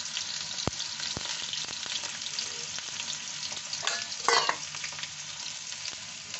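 Sliced ginger and garlic fry in a pan over medium heat, giving a steady close sizzle broken by a few sharp clinks and a louder stirring scrape near the end, with no talking.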